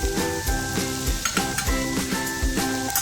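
Tomato and chana dal cooking together in a pan give a steady sizzle, broken by rhythmic clinks and scrapes of a spoon stirring, with music playing underneath.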